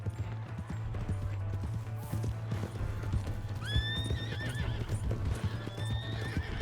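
In Red Dead Redemption 2, a horse whinnies loudly twice over a continuous, close clip-clop of hooves, with a low engine-like hum running underneath throughout.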